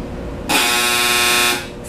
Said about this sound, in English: Excuse my dryer.